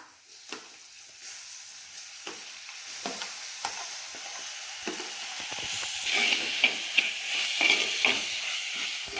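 Onion and tomato sizzle steadily in a pan while a spoon stirs, scraping and tapping at irregular intervals. The frying hiss grows louder and brighter toward the end.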